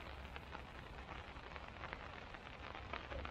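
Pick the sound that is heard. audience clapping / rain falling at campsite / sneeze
rain falling at campsite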